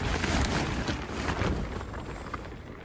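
Storm wind blows at a campsite in the evening, loud gusts roaring and buffeting against the microphone, strongest at first and then easing slightly, with no one speaking.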